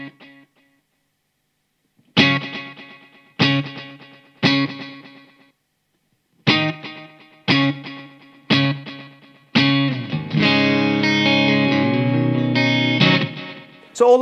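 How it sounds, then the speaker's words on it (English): An electric guitar runs through a budget Hammer Tone tape delay pedal with modulation, playing chords in separate hits whose repeats warble and fade, then a longer sustained passage wrapped in echoes, all without talk. "Modulation to add a little bit of warble to the repeats, like an old tape delay"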